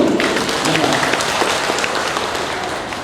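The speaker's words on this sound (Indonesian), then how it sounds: "Untuk sementara tepuk tangan Bapak dan Ibu." An audience of parents and teachers at a curriculum briefing gives a sustained round of clapping. The applause is full and even, with a faint murmur of voices mixed in, and it eases off slightly toward the end.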